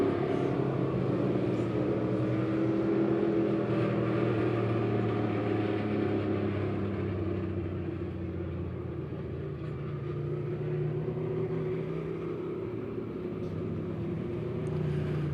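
Dirt late model race cars roar around a dirt track with a heavy, continuous engine rumble and no break in the noise, loud and steady throughout.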